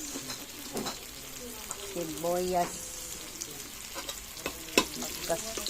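Onions being stirred and sautéed in a pan for adobong kangkong, a steady sizzle broken by scraping stirs, with a brief clang near the end; a voice speaks briefly partway through.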